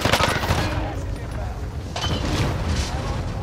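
Shotgun fire in the video game Call of Duty: Modern Warfare: loud, dense blasts at the start, then a second burst of booming gunfire about two seconds later over a rumbling background.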